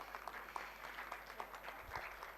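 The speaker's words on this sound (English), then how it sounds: "A big round of applause for yourself" Awardees at a north-zone felicitation workshop receive a round of applause from the audience, a steady, moderately loud wash of clapping lasting the whole stretch with no talk over it.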